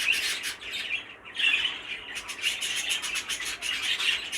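A Fife canary cock bird squawks and chirps with harsh, busy, continuous calls close by, with only a brief pause.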